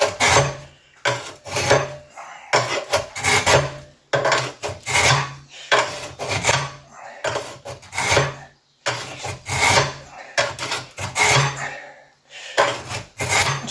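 A Smith's carbide sharpener is dragged across a steel blade in a long series of rough, rasping strokes, each a short scraping burst with brief gaps between, close and fairly loud for about fourteen seconds.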